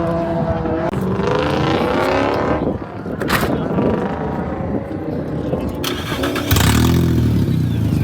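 Drift car engine revving hard through a loose, louder exhaust, a rough, raspy roar that swells and surges with a final louder rev. People talk over it.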